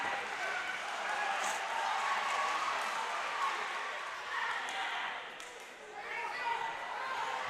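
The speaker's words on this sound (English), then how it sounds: "You can hear the crowd roaring from that one." Crowd roaring at a high school state duals wrestling championship, a broad sustained wash of cheering that swells and dips across the span, heard from a distance in a large gym.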